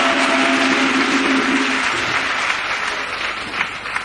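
A church congregation applauds and cheers for Jesus Christ, dense sustained clapping with shouts filling the room, steady and loud throughout.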